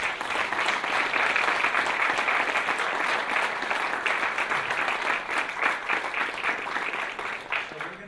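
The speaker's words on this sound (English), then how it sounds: "Let's give a round of applause to us." Sustained applause from a conference audience, dense steady clapping that fills the room for about eight seconds and tapers slightly at the end, with a few voices murmuring underneath.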